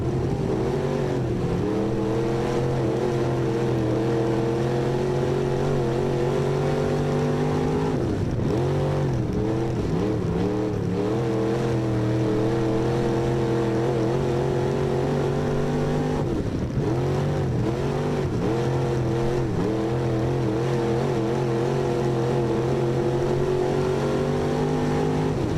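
Dirt-track race car engine at Maquoketa speedway, a steady loud drone that dips and bogs as the car comes out of the corners twice, then pulls back up in pitch, running on without pause.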